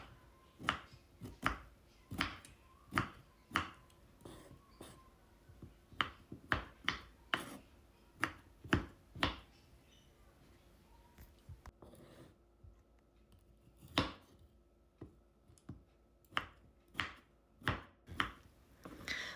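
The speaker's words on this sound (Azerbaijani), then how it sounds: "Gördüyünüz kimi çuğunduru soydum və bunu elə isti-isti doğrayıram." Peeled, still-hot boiled beetroot being cut lengthwise with a knife on a board, a steady series of crisp close chops landing roughly every half second to second, with a brief pause midway and no talking.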